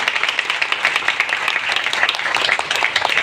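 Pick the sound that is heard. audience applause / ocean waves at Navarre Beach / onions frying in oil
audience applause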